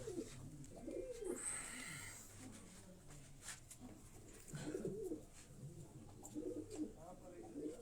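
Pigeons in a breeding setup cooing softly in repeated low throaty calls, fairly faint with background murmur and occasional voices nearby.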